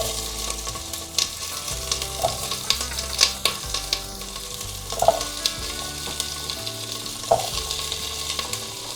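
Vegetables sear on high heat in oil hot enough to smoke, with a constant hiss of frying and regular scraping, clanking strokes of stirring close at hand. No one speaks.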